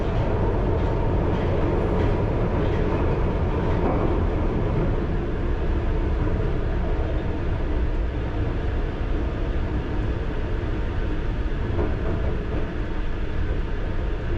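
A London Underground Piccadilly Line train running and braking near King's Cross, heard from inside as a loud, steady rumble and roar with faint rail clatter throughout, no voices.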